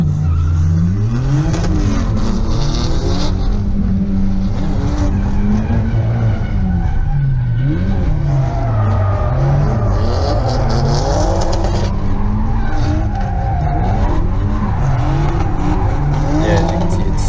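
A turbocharged Mazda Miata drifts around a race track infield in second gear, its engine loud and close, pitch rising and falling continuously while tires squeal and skid almost throughout.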